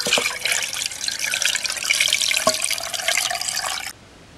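Salted water brine pours steadily into a container for homemade salted eggs, a close, continuous splashing gush that stops abruptly near the end, with no talking.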